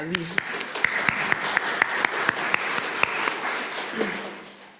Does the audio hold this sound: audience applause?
yes